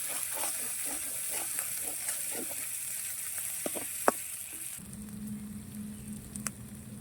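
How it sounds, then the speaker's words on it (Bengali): Masala frying for ghugni with turmeric and a little sugar, a steady close sizzle with occasional pops and scraping stirs, then the hiss drops to a lower, quieter simmer near the end. "মশলা কষানো হয়ে গেছে"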